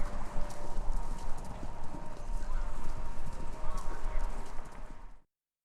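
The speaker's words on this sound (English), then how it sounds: "Horses in the motherfucking road." Horses clop along a road in Kentucky Route Zero, a busy overlapping patter of hooves over a low rumble with speech mixed in, cutting off abruptly near the end.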